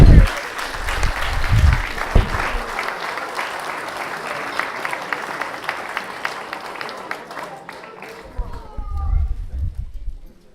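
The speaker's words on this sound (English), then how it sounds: "So a round of applause for Eileen Costello and Flavia" Wedding guests applaud during the reception speeches, a dense sustained clapping from a crowd filling the room for several seconds before tapering off, with scattered voices and a few louder nearby claps.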